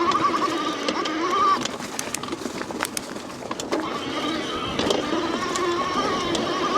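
A 1,000 W Bafang mid-drive e-bike motor on a Magician Atlas E with smaller tires, run on light throttle, giving a steady buzzing electric whine with slight pitch shifts and faint mechanical ticking, no talk.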